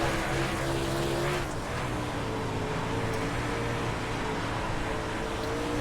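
A super late model race car roars continuously on the Volusia dirt track in the iRacing game, its engine note holding a loud, steady high-revving pitch with slight dips, no voices.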